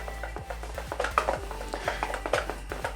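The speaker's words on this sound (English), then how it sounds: "we're going to give this another whisk" Coconut flour pancake batter is whisked briskly in a bowl, producing close, rhythmic clinks and scrapes of metal against the bowl at a quick, fairly regular pace, with no talk.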